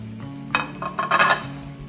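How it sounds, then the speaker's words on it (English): Spinach sautéing and wilting with butter in a pan, a soft sizzle and crackle with a few clinks from stirring, close and fairly quiet over a low steady hum. "you can pack in a lot of spinach and it'll saute and wilt in this dish"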